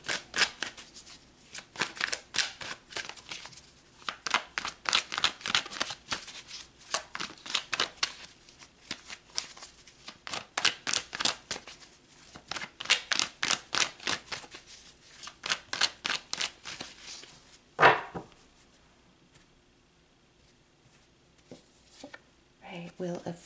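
Tarot cards shuffled in repeated rhythmic riffling bursts, close and crisp, ending with a single card snap and near quiet.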